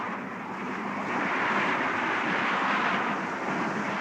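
A Spectrum helicopter in a Captain Scarlet audio drama flies over a motorcade, making a steady, rushing engine drone that swells slightly midway and holds loud and continuous with no voices.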